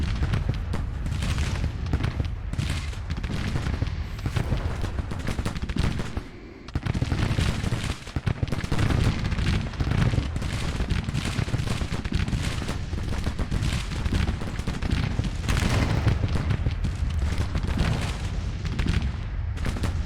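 Cannon fire in the Civil War strategy game Grand Tactician: 24-pounder artillery and 12-pounders booming in a dense, continuous barrage of overlapping blasts and rumbling reports, loud throughout with a brief lull partway through.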